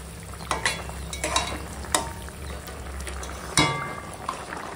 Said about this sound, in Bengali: এখন এই মাছটা আমি ঝোলের সঙ্গে একটু রান্না করব।